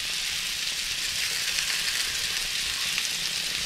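Meatballs sizzling steadily in a frying pan, a dense, even crackle of hot fat that stays loud and close without any talking.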